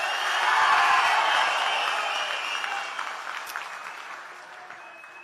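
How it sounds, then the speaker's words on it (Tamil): A large crowd cheers and shouts at a TVK political rally in Tamil Nadu. The roar peaks early and then slowly fades to a lower, lingering crowd noise. "இன்னமும் ஒரு கூச்சல் சத்தம் அடங்கின மாதிரியே எனக்கு தெரியல"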